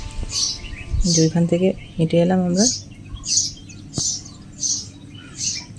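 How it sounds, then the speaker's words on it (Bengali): Morning birdsong at a hill resort in Kotagiri near Ooty: repeated short, bright chirps sound at a steady pace throughout, while people talk nearby in the foreground. "পাখিগুলো কি সুন্দর ডেকেই যাচ্ছে।"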